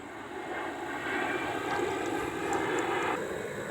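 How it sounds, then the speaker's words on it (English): A low-flying propeller airplane drones overhead, a steady engine roar that swells and holds across the stretch with no voices. "I wish to be on that plane right now."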